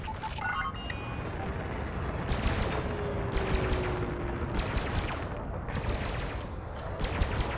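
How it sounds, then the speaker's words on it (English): Spaceship weapons fire in the space combat game Elite Dangerous, with bursts of rapid shots repeating across a dense, steady roar of battle noise, close and loud throughout. "Now I'm getting shot by two different ships."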